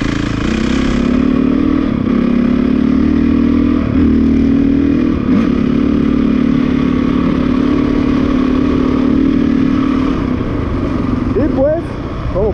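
A motorcycle engine runs steadily and loud for most of the stretch, holding a mid-pitched drone with slight rises and dips as the throttle is worked and gears are changed, then revving upward sharply near the end.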